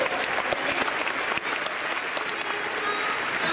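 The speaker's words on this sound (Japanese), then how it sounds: "皆さん大きな拍手をお送りください" A fan festival crowd for the Chunichi Dragons baseball team breaks into loud, dense applause after a karaoke contest performance, steady clapping close and filling the whole stretch.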